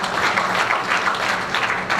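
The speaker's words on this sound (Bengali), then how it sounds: "গভর্নমেন্টের জন্য হাততালি হবে" Continuous crowd applause at a Dream Night 2016 gathering, dense steady clapping filling the room without pause, with a faint murmur of voices blended underneath.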